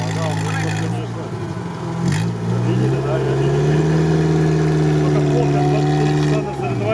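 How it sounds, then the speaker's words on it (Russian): Loud, close exhaust of an off-road car at an RFC Ukraine off-road event, revving with rising and falling pitch and then holding a high steady drone, while voices are heard nearby. "Какой выхлоп у него модный, как у Геленвагена"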